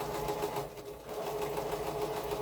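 A sewing machine stitches a quilt's curved seam, its needle chattering as one steady, close, continuous run at an even pace with no pauses.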